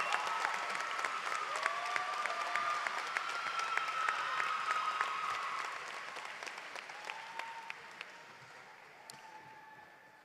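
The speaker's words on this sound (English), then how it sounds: "please give a round of applause to the faculty honorary recipients" Graduation audience at a 2017 high school ceremony applauding steadily, a dense wash of clapping that slowly fades toward the end, with a few cheers and whistles above it.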